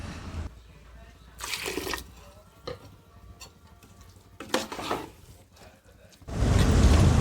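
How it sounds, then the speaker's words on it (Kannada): Water pours noisily into a pot of kichadi near the end, after scattered clinks, stirring scrapes and a soft sizzle. "ಇದೀಗ ನೋಡಿ ಇದಕ್ಕೆ ಸ್ವಲ್ಪ ನಾನು ನೀರು ಹಾಕ್ಕೊಳ್ತಾ ಇದ್ದೀನಿ"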